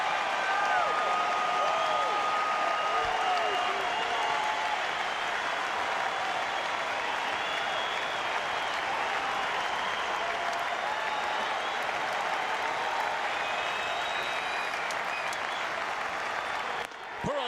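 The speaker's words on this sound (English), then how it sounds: "This Fenway crowd ready to explode" Fenway Park crowd roaring and applauding at a Red Sox baseball game against Cleveland, a dense, sustained wall of cheers and clapping that holds steady for the whole stretch before briefly dipping at the end.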